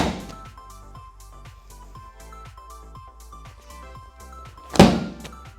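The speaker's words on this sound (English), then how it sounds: "My hips should have rotated before I slam the ball down." A medicine ball slams hard onto a gym floor once near the end, a single loud thud standing out over a steady beat of background music.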